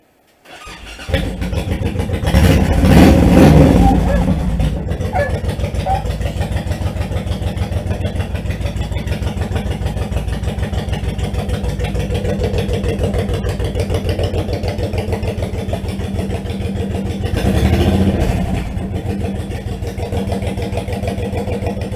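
A 2005 Honda VTX1800 cruiser motorcycle, cold after sitting all night, cranks and fires up with a revving surge, then settles into a loud, close, steady idle with a brief rev partway through.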